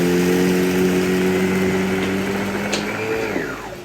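A Sebo D4 upright vacuum cleaner runs with a loud steady motor whine and hum, close up, then its pitch sweeps down as it powers off.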